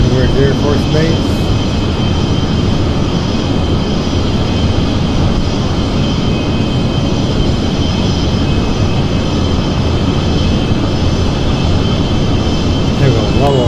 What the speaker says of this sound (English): There we go, level now. Afterburner's going.